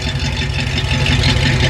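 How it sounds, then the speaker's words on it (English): Old-school V8 in a 1978 Jeep CJ-7 rumbles at a steady idle, its exhaust note a loud, continuous low burble that holds even through the whole stretch with no pauses. "you can't beat the sound of that old school V8 coming from the 1978 CJ-7"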